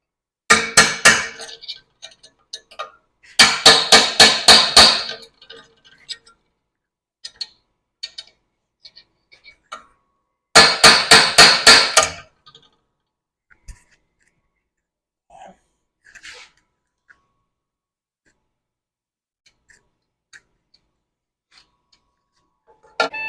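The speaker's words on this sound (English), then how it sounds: "I'm going to take my punch, hammer, and just try to work this thing around from the center" Three bursts of rapid metallic hammer strikes, ringing and sharp, separated by quiet pauses with a few scattered taps.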